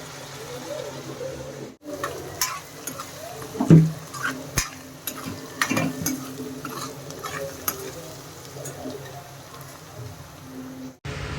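Onions fry and sizzle steadily in a pan while being stirred until brown, with repeated scraping and clinks of the spoon against the pot and some faint background talk.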